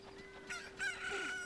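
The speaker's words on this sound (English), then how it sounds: "Look, a chicken hatched from the egg you're incubating." A rooster crows at dawn in The Legend of Zelda: Ocarina of Time, a fairly quiet drawn-out crow over a steady game music drone.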